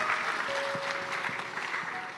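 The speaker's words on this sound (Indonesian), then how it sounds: "Tepuk tangan buat bapak-bapak utamanya." An audience at an Indonesian family talk gives a brief burst of applause, dense overlapping claps from a room full of people lasting a couple of seconds, fairly soft and even.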